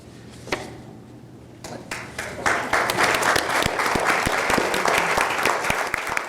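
An audience applauds at a talk on raising resilient teens. The clapping starts sparse, then swells after a second or two into sustained, fairly loud applause from a room-sized crowd.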